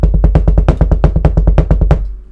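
A human voice imitates a woodpecker's call with a fast, even string of about seventeen sharp, nasal staccato notes lasting about two seconds, loud and close, then breaking off.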